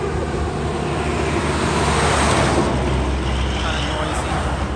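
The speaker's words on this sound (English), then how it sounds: "Here comes a big truck." A big truck passes close by on a road with a loud, broad roar that swells toward the middle and then slowly fades.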